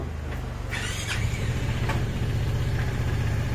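A Kymco Xciting VS 400 scooter engine sputters to life and settles into a steady, low idle hum, close by and continuous.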